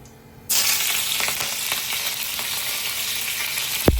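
Mustard seeds and green chillies hit hot oil, and a loud, dense sizzle bursts in after a short quiet start, crackling steadily up close, with a single thump near the end.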